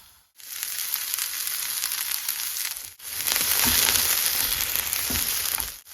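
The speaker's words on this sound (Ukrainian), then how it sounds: "До сковорідки висипаємо цибульку 200 г і смажимо до золотавого кольору." Close, steady sizzle of chopped onions frying in butter in a pan, interrupted once by a brief pause before the hissing resumes louder, with occasional crackles.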